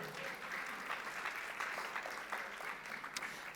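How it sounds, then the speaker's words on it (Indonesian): Steady applause from a church congregation during a Pentecostal Sunday worship service in Gorontalo, a dense wash of many hands clapping evenly throughout at moderate loudness, with no talk over it. "Tepuk tangan untuk Tuhan."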